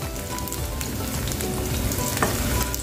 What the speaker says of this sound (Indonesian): bumbunya tumis sampai benar-benar aromanya keluar